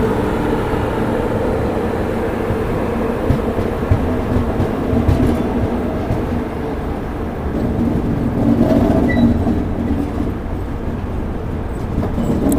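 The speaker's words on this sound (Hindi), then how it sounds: "हमारी ट्रेन प्लेटफॉर्म नंबर 5 पर अराइव हो रही है।" A passenger train rolls into platform 5 at an Indian railway station, a loud, continuous rumble of wheels and carriages that holds steady and close throughout, with no talk over it.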